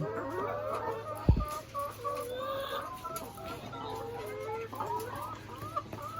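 Several laying hens cluck and chatter close by in an ongoing, uneven stream of calls, with a sharp knock partway through.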